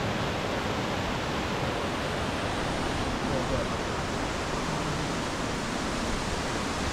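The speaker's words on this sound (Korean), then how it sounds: "천남폭포입니다." Cheonnam waterfall on Seoraksan mountain roars with a steady, dense rush of falling water, a constant loud wash that holds evenly throughout without breaks.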